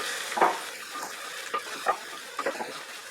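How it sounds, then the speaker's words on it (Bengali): Rice stirred and fried in a pot with oil and other ingredients for vegetable pulao, giving a soft sizzle under intermittent scraping stirs, close and fairly quiet, no talking. "চালটা দেওয়ার পরে আমি 1 মিনিট এটাকে একটু নাড়তে নাড়তে রান্না করব, সবকিছুর সাথে মেশাতে মেশাতে"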